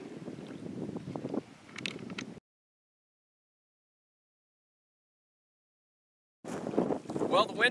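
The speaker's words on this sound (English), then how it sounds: "the wind is picking up" Wind gusts across a lake during a canoe trip, a rough, blustery rush buffeting close by. It drops out to complete silence for several seconds, then returns just as strongly.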